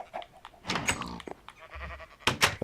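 A Minecraft sheep bleats in short nasal bursts, mixed with other brief in-game clunks and animal noises, fairly close and moderately loud.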